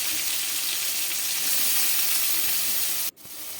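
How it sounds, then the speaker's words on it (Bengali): Turmeric and soya chunks fry in a pan with a steady, bright sizzle that runs continuously while being stirred, then cuts off abruptly near the end before resuming more softly. "হলুদ গুঁড়ো দিয়ে দিলাম, দিয়ে এবার নাড়িয়ে তারপরে সয়াবিনগুলোতে দিয়ে দিচ্ছিলাম।"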